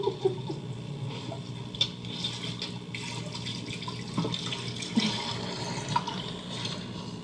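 Cold water running from a tap into a sink, a continuous splashing flow with small knocks and clatters over it, close and moderately loud with no voices.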